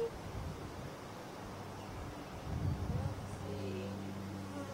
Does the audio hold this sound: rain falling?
no